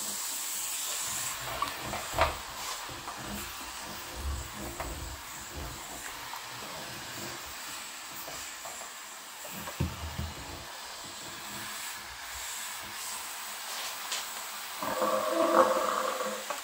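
A Black & Decker steam cleaner hisses steadily and loudly against kitchen cabinets, its continuous broadband rush with small fluctuations filling the whole stretch and no voices present.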